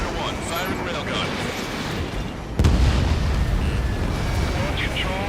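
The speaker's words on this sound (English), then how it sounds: "Strider 1, firing railgun." A railgun fires in the Ace Combat 7 video game, a sudden loud blast midway that lifts into a sustained heavy roar under dense game noise and radio chatter.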